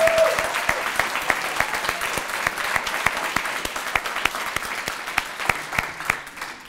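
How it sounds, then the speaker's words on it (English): An audience at an annual dinner celebration applauds for a long steady stretch, many hands clapping densely and loudly in the room with a few sharper claps standing out. "Let's give Ronnie another round of applause."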